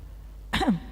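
During a Sunday worship service at HKBP Mampang church, a single short, sharp cough or throat clearing rings out close by after a quiet pause, alone and without talk.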